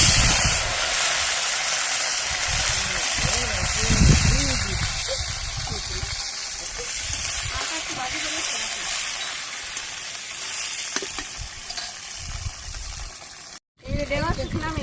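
Okra fries in hot oil with cumin, bay leaf and fenugreek, giving a steady close sizzle and hiss that runs the whole time, with someone talking over it and a brief dropout near the end.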